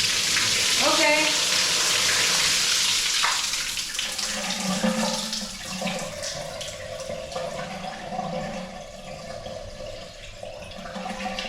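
Water rushes through condo plumbing from a partly opened ball valve, a loud continuous hissing surge that eases into a lower gurgling flow, close by, with brief voices early on.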